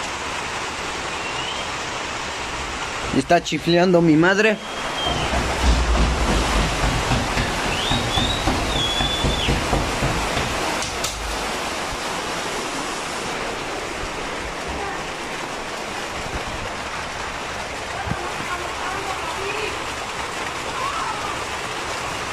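Steady rain pours outside a house, a dense continuous wash of falling water with a few louder bursts and brief speech over it.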